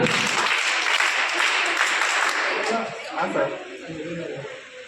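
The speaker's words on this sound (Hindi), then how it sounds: "हाथ ऊपर," Loud, dense clapping from a large group that fades after a few seconds, leaving quieter background voices and movement.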